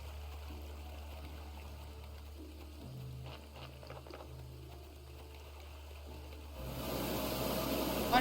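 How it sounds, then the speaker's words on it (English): Steady rushing water of a waterfall in the pixel-art game Graveyard Keeper, a continuous stream under a low music hum, growing louder and fuller near the end. "I think the waterfall's over here."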